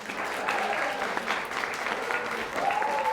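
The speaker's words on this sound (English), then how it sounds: "absolutely some applause for both teams" Studio audience applauding both teams at the end of a round of a high school varsity quiz show, steady clapping throughout with a faint tone beneath.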